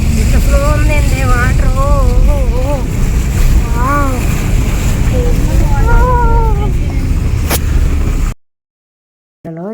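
A small car pushing through fast-flowing water over a road, with a loud constant rush and wind buffeting near the microphone, people talking over it, before an abrupt cut to near silence.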